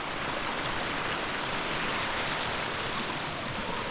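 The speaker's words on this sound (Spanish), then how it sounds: "¿Cómo corre el agua?" Water rushes steadily through mountain irrigation channels at Lanjarón, a continuous dense wash of sound, loud and close, with no voices.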